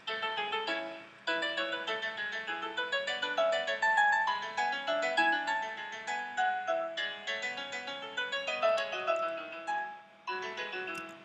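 Composed two-voice musical invention played back in a bright, bell-like synthetic tone, a steady stream of plucked notes with a brief pause near the start and another near the end.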